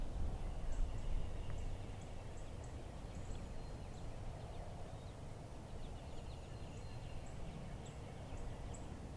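Wild turkey gobbling in short, distant bursts during a Mississippi spring turkey hunt, the calls repeating faintly over steady outdoor background noise with no talk.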